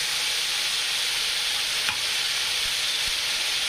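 Ginger, coriander, garlic, tomatoes and onions fry in a pan for an egg curry masala, giving a loud, even, continuous hiss that stays close and unbroken, with a single faint knock near the middle.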